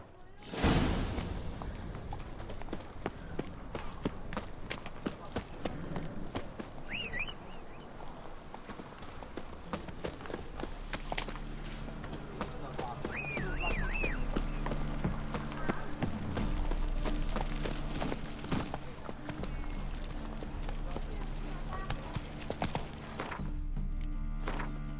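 Geralt's horse Roach gallops in The Witcher 3, a steady rhythmic clip-clop of hooves running through the whole stretch, joined by game music and occasional voices.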